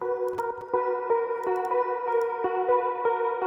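A sustained synthesizer lead layered from an Access Virus, with chorus-like tones, heavy filtering and a washy reverb tail, steady and fairly loud, with sharp rhythmic accents cutting through.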